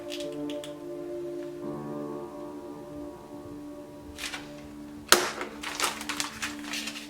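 A vacuum sealer hums steadily for several seconds while sealing a bag, then stops with a sharp click followed by a few short rustling, crackling sounds close by.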